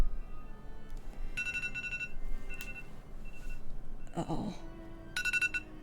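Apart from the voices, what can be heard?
phone alarm ringing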